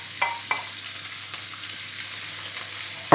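Chopped vegetables and garlic frying in hot oil for spring rolls, a steady close sizzle with a few clattering stirs and a louder scrape at the end.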